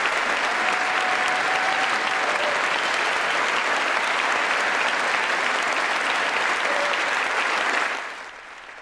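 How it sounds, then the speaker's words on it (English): A chamber audience at a State of the Union address applauds in a long, loud, sustained wave of clapping that holds steady for about eight seconds before quickly tapering off. "Why are they clapping?"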